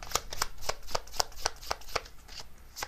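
Tarot cards riffle and slap in a steady run of about ten crisp shuffles, each a sharp papery burst close to the listener, with no talking.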